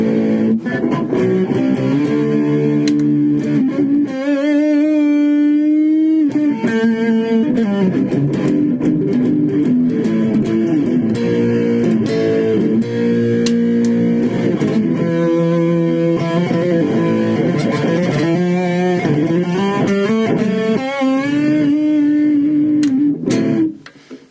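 A Minarik Inferno electric guitar plays through a distorted tone with both pickups selected, a loud, sustained run of chords and riffs that continues without pause for over twenty seconds.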